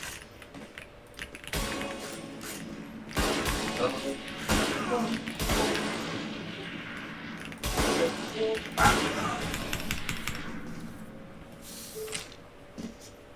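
Video game gunfire in a 1v1 match, several sharp loud shots spaced irregularly amid keyboard clicking and room noise, with a voice talking at times.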